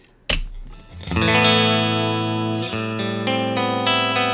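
An electric guitar strikes a chord through a Fender Deluxe Reverb amp, ringing out warm with sustained tone and shifting notes, rich and slightly driven.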